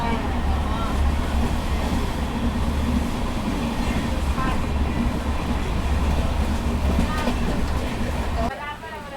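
A passenger express train rumbles steadily along a single-line track in a continuous loud drone of wheels and carriage noise, easing off and dropping quieter right at the end as it slows.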